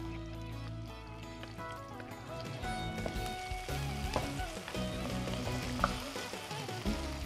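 Chopped onion sizzles in a pan, a soft, steady frying crackle with occasional stirring clinks, fairly quiet and close, with no talk over it.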